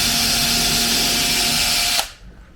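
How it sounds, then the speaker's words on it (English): A power drill bores a small pilot hole into a wooden deck beam, a loud steady whine running for about two seconds before cutting off abruptly into near silence. "I just drill a hole into the beam, so like this,"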